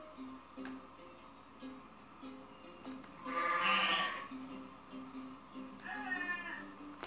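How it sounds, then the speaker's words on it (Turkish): A goat bleats in the Goat Simulator video game on PS4: one loud, harsh, raspy bleat in the middle, with quieter game sounds before and after and a fainter cry near the end. "Söyleyeyim, osuruk sesi gibi olan keçinin meylemesi."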